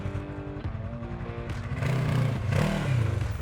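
Segway AT10 1000cc ATV quad launching under throttle, its engine note climbing and growing louder through the second half, close and continuous with no talk.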